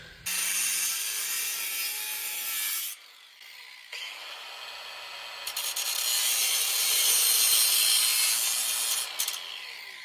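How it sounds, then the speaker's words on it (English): An angle grinder with a cutoff blade cuts the edge of a door slab, giving a loud, sustained high-pitched whine that drops out briefly twice before resuming at full strength, with no one speaking. "I prefer the angle grinder with a cutoff blade."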